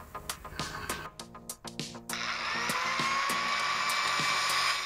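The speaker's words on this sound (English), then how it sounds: "So I'm gonna break out the angle grinder while it's daytime and cut the old U-bolts off" An angle grinder cuts through old rusted U-bolts on a Chevy truck frame, starting up after scattered clanks and then holding a loud, steady whine that runs continuously to the end.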